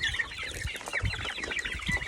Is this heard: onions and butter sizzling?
no